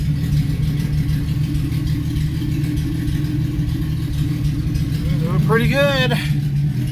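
A Ford Mustang engine with a newly fitted exhaust idles in a steady, continuous low rumble throughout, with a person briefly talking near the end.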